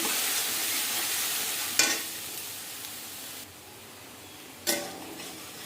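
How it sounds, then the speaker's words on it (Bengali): A spice paste with turmeric and salt sizzles as it is sautéed in a pan. A steady, soft frying hiss runs throughout, and two sharp scrapes of a stirring spoon stand out alone, with no voices. "দেখো মশলাটা দিয়ে মশলাটা ভালো করে কষাবো।"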